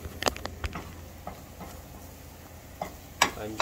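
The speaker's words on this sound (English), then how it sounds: "sort of stirring it around a little bit" A spoon scrapes and taps around a pan of breakfast wrap filling with melting cheese, sparse clicks and scrapes over a faint low sizzle, close and fairly quiet.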